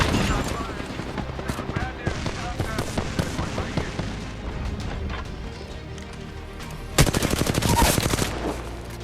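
Rapid automatic gunfire comes in repeated bursts during an Apex Legends match, with a dense, loud volley near the end, layered over game effects and character callouts.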